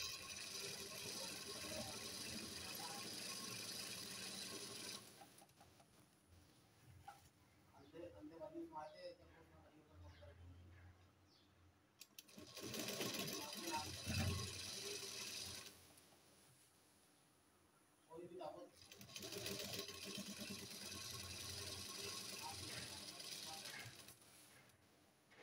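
A sewing machine stitches a kurti in three bursts of steady mechanical whirring and clatter, with quieter gaps between them and a person talking over parts of it.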